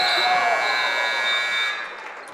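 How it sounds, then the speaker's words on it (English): A loud, steady electronic buzzer at a girls high school basketball game, Stratford at Marathon, sounding for under two seconds over arena crowd noise before cutting off. "the buzzer sounds"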